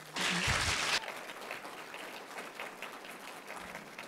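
An audience at a political candidates' debate bursts into a loud, dense wave of applause for about a second, then settles into a lighter, scattered clapping that continues at a lower level.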